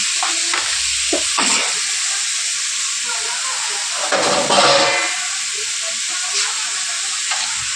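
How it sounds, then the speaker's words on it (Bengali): Boiled potatoes sauté with salt in a hot pan on a gas stove, giving a steady, loud sizzle with occasional scraping stirs and bursts of hissing steam. "নুনটা দিয়ে ঢেকে ঢেকে আলুটাকে ভালো করে কষিয়ে নেবো"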